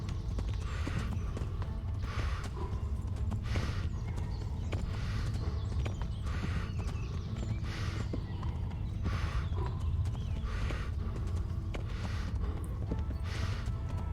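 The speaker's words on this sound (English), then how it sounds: "It's the horse that is running, Henry." Steady rhythmic hoofbeats of a galloping horse in the video game Kingdom Come: Deliverance thud along continuously, moderately loud with a low rumbling background.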